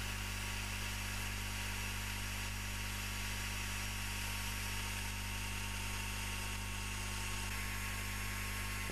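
A drill runs with a steady, continuous whirring hum as holes are bored through both sides of a Les Paul-style guitar body for the strings, with no talk.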